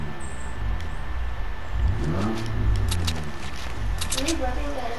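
A vehicle engine revs and rises in pitch during a Fortnite solo match, a mid-range droning whine that swells under near-constant talk, with scattered clicks and taps of game sounds on top.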